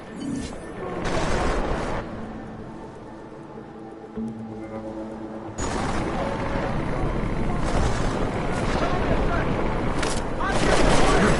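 A military helicopter in a PS4 action game sweeps over a sandstorm-swept battle, its steady rotor drone underlying the whole passage with booming impacts and gunfire-like bursts, while characters talk over it.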